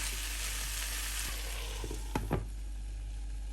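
Vegetables cooking in a pan give a steady broadband sizzle throughout, with a couple of brief utensil clinks near the end and no talking.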